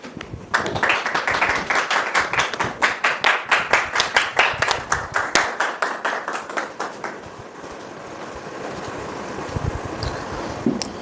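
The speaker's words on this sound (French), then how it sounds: "Merci de la recevoir sous vos applaudissements." An audience claps in unison to welcome a guest onto a stage, a brisk rhythmic series of loud, even claps that settles into softer scattered applause toward the end.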